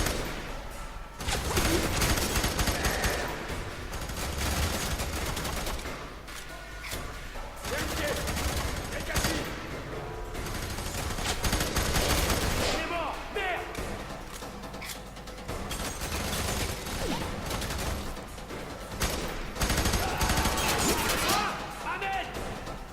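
Gunfire in the shooter game F.E.A.R. 3, dense bursts of rapid shots and blasts crackling almost continuously, loud and chaotic, with a voice talking over the fighting.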